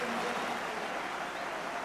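Football stadium crowd applauding as a player is substituted off, a broad continuous roar of clapping and crowd noise filling the whole moment.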